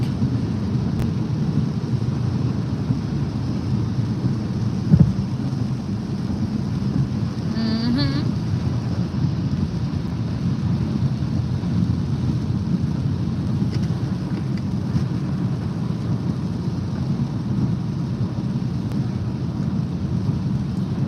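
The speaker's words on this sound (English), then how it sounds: "it's raining and the roads are slick" Steady broadband rain noise with a low rumbling drone, heard from inside a moving car on slick, wet roads, continuous throughout with one brief thump.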